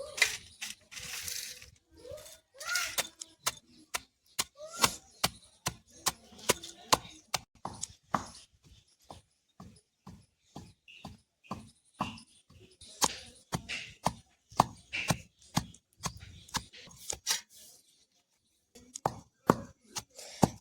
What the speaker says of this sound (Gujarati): ચાલો, તો આપણે સેવડો ખાંડી નાખશું.